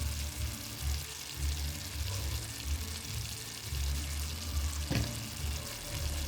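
Chopped tomato pieces fry in a pan for chicken curry with coconut and cashews, a steady close-up sizzle and bubbling with a low rumble and one sharp clack partway through.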